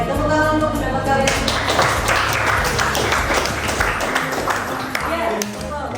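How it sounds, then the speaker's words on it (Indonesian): A classroom of students claps for their classmates' opinions during a guidance lesson on managing emotions, a dense, steady patter of hands lasting several seconds. "tepuk tangan untuk pendapat kalian"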